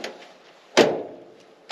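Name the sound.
truck door being shut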